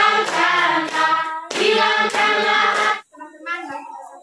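Hands clap in rhythm along to an Indonesian worship song in a classroom setting, the claps sounding under strong singing voices that pause briefly before resuming more softly.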